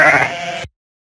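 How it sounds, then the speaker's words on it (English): A single sheep bleats loudly and close, one sustained wavering call that cuts off abruptly, with silence after. "Sheep."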